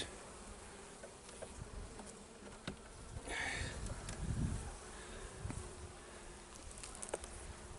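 Honeybees buzz continuously around a hive frame during a spring hive inspection, a close, faint hum with occasional louder passes of single bees.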